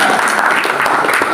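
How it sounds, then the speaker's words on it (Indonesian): A church congregation claps together in a brief, loud burst of dense, continuous applause, close and filling the room, with no voices over it. "Berikan tepuk tangan buat dia."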